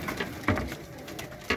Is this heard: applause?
no